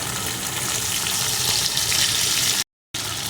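Potatoes fry in oil with turmeric, chili powder and salt as they are stirred, giving a steady, loud, broad sizzling hiss that is briefly cut by a short silent gap near the end.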